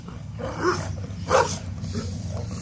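A dog barks twice in loud, separate bursts, with a low steady engine-like hum continuing underneath and no speech.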